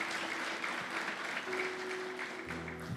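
Church congregation applauding in a steady, dense patter of clapping that carries through the whole stretch, with a sustained musical tone entering partway and a low hum near the end.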